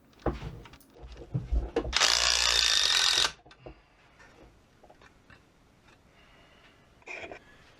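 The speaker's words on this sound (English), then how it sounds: "They just screw straight into concrete or breeze block." A power driver sinks a plugless masonry screw into a concrete or breeze block shed wall for a scrap-wood shelf: one loud, whining burst of about a second, framed by scattered knocks and clunks of handling.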